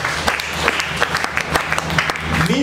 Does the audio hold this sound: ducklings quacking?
no